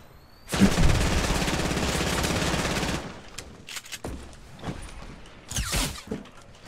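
Gunfire in a Fortnite solo battle royale match: a dense burst of rapid shots runs for a couple of seconds, followed by scattered sharper cracks and thuds at moderate distance.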